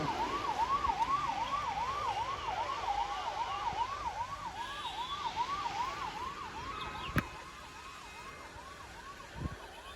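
A convoy vehicle siren at Raigad fort wails in a rapid, repeating rise-and-fall pattern, loud and steady, then cuts off, leaving traffic noise and a couple of sharp knocks.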